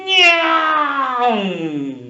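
A human voice imitates a cat's meow, giving a single drawn-out, wavering nyaa that is loud and close and slides down in pitch as it fades, told as part of a children's story.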